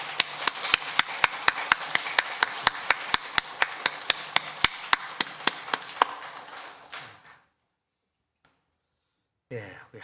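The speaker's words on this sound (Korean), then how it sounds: "힘찬 박수로 영광 돌리겠습니다" A church congregation bursts into loud, sharp rhythmic clapping during a Sunday worship service, steady beats in unison for about seven seconds before falling silent, then a voice begins.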